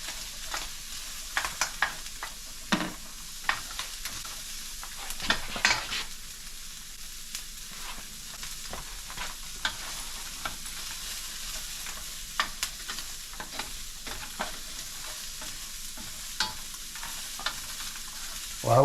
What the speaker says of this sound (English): This smells absolutely delicious with this onion cooking in the same pan that I had this venison.